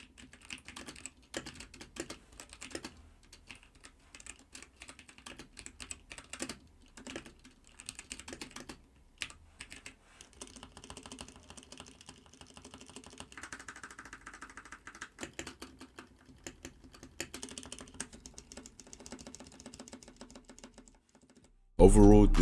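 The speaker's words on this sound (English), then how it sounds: "the keyboard is nice. It sounds good and it's Bluetooth." Typing on a Bluetooth computer keyboard in a desk setup, a steady run of close, fast key clacks with brief pauses, ending in a loud burst of noise.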